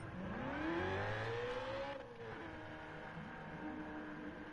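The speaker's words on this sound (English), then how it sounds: "That Corvette goes off." A Corvette C2 engine in a racing game climbs through a rising rev, its pitch sweeping steadily upward before easing off, then settling into a steady drone of engine and road noise.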